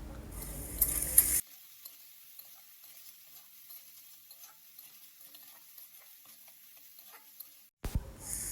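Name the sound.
stirring fried potatoes into spice mixture in a pan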